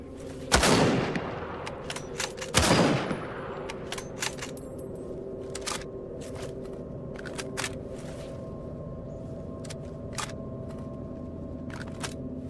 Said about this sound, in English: the gunshots sound a little bit better, I think